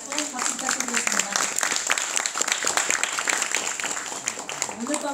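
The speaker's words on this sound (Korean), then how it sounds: "다시 한번 박수 부탁드리겠습니다." Warm audience applause at a choir concert, many hands clapping steadily and fairly close for several seconds while a voice speaks over the clapping.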